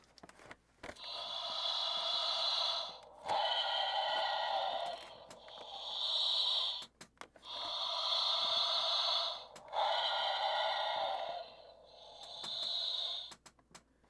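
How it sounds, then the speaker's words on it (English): A Lanard Aliens red alien queen toy plays a Darth Vader-style mechanical breathing effect: six loud, close, raspy breaths alternating in and out, with short pauses between them and no talking. "we got flashing lights and Darth Vader breathing"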